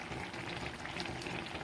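Milk simmering and reducing in a pan for carrot halwa, a steady dense bubbling and gentle seething that continues evenly throughout, with no voices.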